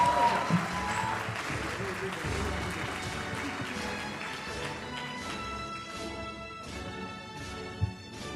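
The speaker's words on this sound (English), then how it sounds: "A huge round of applause for Dr. Sana Fatma." Applause from the audience at a medical college convocation ceremony, a broad steady wash of many hands clapping that carries on throughout, with some talk underneath.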